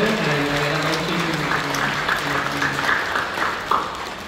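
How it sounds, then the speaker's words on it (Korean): A church congregation during a Korean worship service applauds with steady, moderately loud clapping from many people, while a sustained musical tone plays beneath in the first half. "박수해주시고"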